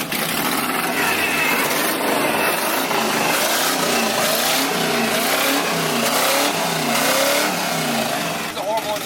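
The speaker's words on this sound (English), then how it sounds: "It's a horrible exhaust leak" A Chevy squarebody engine with a bad exhaust leak runs loud and close, revving up and settling, with voices talking over it.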